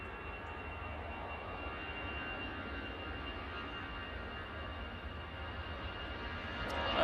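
A KLM airliner at Manchester Airport produces a faint, distant, steady jet hum with a thin whine, swelling slightly louder in the final moments.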